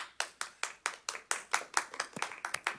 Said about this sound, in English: Applause goes to you.